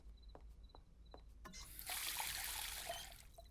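Water pours and trickles into a drinking glass in a children's cartoon, a short liquid stream swelling for about two seconds, with light clicks and faint background music around it.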